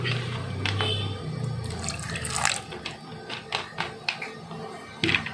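Water, with a little coconut oil, is poured into a curry mixture of dried prawns and raw plantain, giving a splashing pour followed by a few short drips and splashes.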